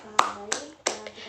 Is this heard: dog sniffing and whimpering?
no